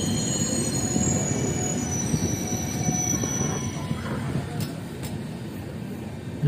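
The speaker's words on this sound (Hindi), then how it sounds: "ये देखिए धीरे धीरे हमारी ट्रेन प्लेटफॉर्म नंबर तीन से रांची जंक्शन से सड़क रही है" Jan Shatabdi Express pulling slowly out of platform three at Ranchi Junction, heard from on board as a steady low rumble of rolling wheels with faint metallic squeals, continuous and close.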